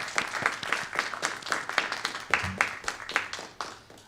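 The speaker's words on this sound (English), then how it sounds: "Big round of applause for Mr. Pappas, everyone." A small audience at a gubernatorial candidate forum claps for a few seconds, scattered hand claps of moderate loudness tapering off toward the end.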